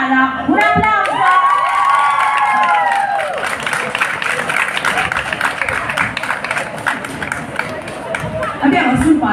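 Audience applause and cheering after a K-pop dance performance by a dance school, crowd clapping and shouting loudly throughout, with an announcer's voice over the start.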